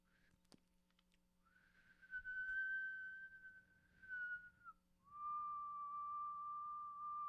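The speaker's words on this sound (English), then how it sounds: "it just sounds like a whistle or something" A person whistles pure, sine-like tones: a brief high chirp, then a long steady note that drops slightly, followed by a slightly lower sustained note, clear and close against quiet background.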